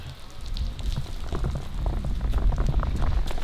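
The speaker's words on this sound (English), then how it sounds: "it's like pouring rain right now" Heavy rain pours down steadily in a dense, continuous roar, drops drumming on surfaces close by, growing slightly louder toward the end with no voices.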